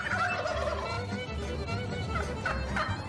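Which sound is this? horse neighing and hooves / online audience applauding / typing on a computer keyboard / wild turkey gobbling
wild turkey gobbling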